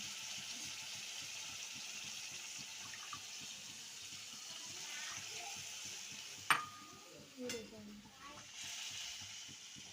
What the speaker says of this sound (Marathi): आता आपण पाणी टाकून घेऊ पूर्ण